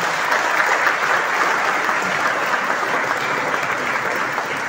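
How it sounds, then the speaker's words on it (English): A crowd at a World Tourism Day celebration in Goa breaks into loud, dense applause that stays steady throughout, with no voices over it. "A big round of applause, please."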